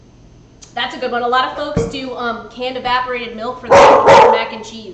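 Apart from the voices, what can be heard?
five-month-old puppy barking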